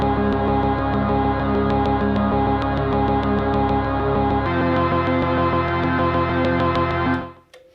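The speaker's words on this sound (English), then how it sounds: "one of the stems is like this lead synth" A Digitakt lead synth stem carries a chord riff with steady rhythmic pulses and a thick low end. It thins partway through, then cuts off near the end, with no talk.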